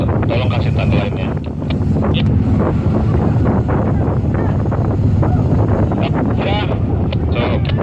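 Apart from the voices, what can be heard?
strong wind at sea during night food transfer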